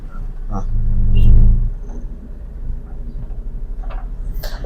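A car pulls away in first gear, its engine revving up into a loud rumble that peaks and then settles back to an idle-like drone, with an instructor talking over it.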